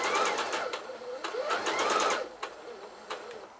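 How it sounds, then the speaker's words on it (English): A sewing machine with a stretch needle stitches ponte knit fabric, running in fast close whirring bursts that speed up, pause briefly and start again. "put the fabric under the foot, making sure that our edges are even, and lower our foot, and then begin stitching"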